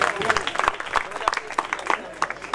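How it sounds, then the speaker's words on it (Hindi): Audience applause at a farewell gathering, close and fairly loud, with lively irregular hand claps that mix with voices in the room. "एक बार उनके लिए जोरदार तालियां बजा दी"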